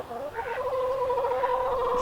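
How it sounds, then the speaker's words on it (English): A hen clucks and murmurs in a continuous, wavering chatter, close by and fairly soft. "We got one hen that is a major talker."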